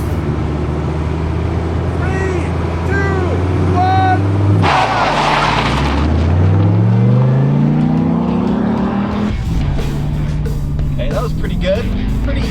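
Dodge Viper and Chevy Corvette ZR-1 with a dual overhead cam 32-valve V8 rev and accelerate in an old-school drag race, a loud engine note climbing steadily in pitch. Talk and cheering run over the engines.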